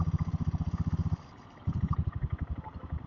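A diesel Bullet motorcycle thumps along close by, a loud, even low-pitched chug of rapid pulses that briefly drops away before resuming its steady beat.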